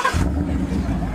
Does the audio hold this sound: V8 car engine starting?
yes